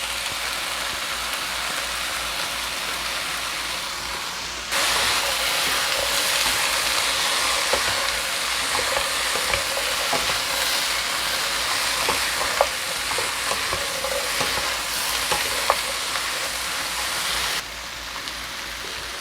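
Chopped vegetables sizzling and being stirred in a hot pan for a healthy homemade jjajang sauce, a steady loud crackle that jumps up sharply partway through as more vegetables go in, with scraping stirs throughout and no talking.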